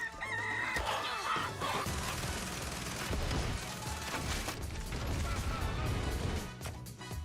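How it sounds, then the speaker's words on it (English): A rooster crowing near the start amid a loud, dense mix of crowd noise, crashes and game sounds from a video game event, with voices mixed in throughout. "Who brought the rooster?"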